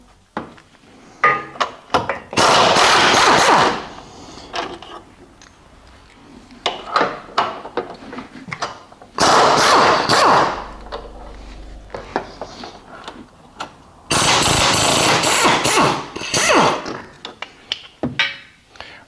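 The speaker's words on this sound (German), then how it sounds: "Jetzt, wo alles abgesichert ist, werde ich hier den Motorhalter entfernen." Tools working on the engine mount of a Skoda Yeti 2L TDI during a timing belt change: repeated loud bursts of ratcheting and metallic rattling separated by scattered knocks and clicks, close by with no talk.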